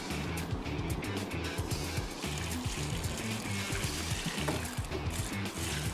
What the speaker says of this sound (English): let's put some more water in, you'll see it'll get easier. Nice and easy with the pail though, Josh